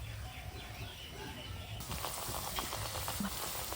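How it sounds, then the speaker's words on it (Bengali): Nuts fry in oil over medium heat; a soft crackle jumps to a louder, dense sizzle partway through as more pieces drop into the pan, then the frying keeps hissing steadily. "তো এবার আমি এগুলো অল্প অল্প করে তেলে ছেড়ে দিচ্ছি।"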